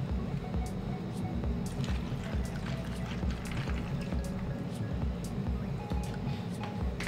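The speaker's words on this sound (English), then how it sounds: "Then put some water there." Water pours and trickles into a container holding mechanical keyboard keycaps, giving soft splashing and dripping at close range over a low background hum.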